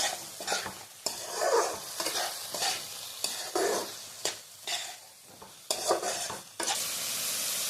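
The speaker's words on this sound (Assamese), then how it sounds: "এতিয়া আমি এইখিনি অকণমান ভালদৰে লাৰি দি তাতে মিক্স কৰি দিব লাগিব।" Potato pakora gravy is stirred and mixed in a sizzling pan with repeated spoon scrapes in uneven strokes, close and clear, ending in a steady frying hiss.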